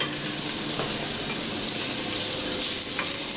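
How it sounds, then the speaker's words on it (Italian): Close, continuous sizzling and crackling of guanciale frying in a hot pan, with a faint tap or two. "quindi facciamo rosolare il guanciale."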